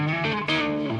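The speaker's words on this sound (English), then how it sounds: "that sound is just the neck pickup with the volume turned right down" Clean electric guitar played through the neck pickup with the volume rolled right down: soft, sustained, ringing chords that shift about halfway through, steady in level and played alone without any talking.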